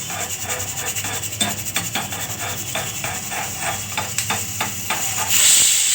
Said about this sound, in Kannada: ನೋಡಿದ್ರ ಫ್ರೆಂಡ್ಸ್ ಒಂದು ವಿಷಲ್ ಆಯಿತು